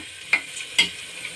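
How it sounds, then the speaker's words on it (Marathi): Chopped onion, garlic, ginger and spices sauté in a pan over a soft background sizzle, with two quick spatula scrapes about half a second apart. "कांदा लसूण त्याच प्रकारे सगळे मसाले व्यवस्थित परतू द्यायचे आहेत"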